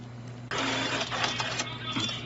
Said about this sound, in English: Mega Million lotto tickets are coming out hot from the printer